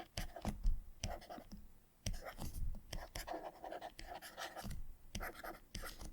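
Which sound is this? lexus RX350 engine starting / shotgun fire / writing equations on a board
writing equations on a board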